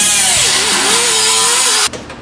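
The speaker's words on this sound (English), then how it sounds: "drilling out some of the spot welds" A power drill bores out spot welds on the rocker panels of a classic Chevrolet C10 truck under restoration, making a loud, close, continuous whine that wavers in pitch under load, then stops abruptly, leaving faint clatter.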